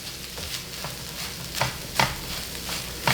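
Tuna sisig with mayonnaise being stirred in a pan, a constant oily sizzle broken by several scraping strokes and taps of a spoon against the pan, close up.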